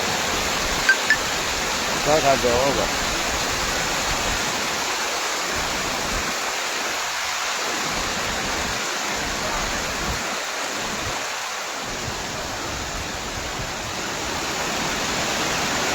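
Overflowing water from Ramdhari lake rushes loudly and steadily, like a close waterfall, with a brief exchange of voices near the start.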